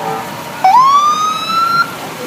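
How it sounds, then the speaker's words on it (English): A fire truck siren at a Christmas parade sounds one rising wail that holds steady for about a second, loud and near, over faint crowd background. "More fire trucks coming down."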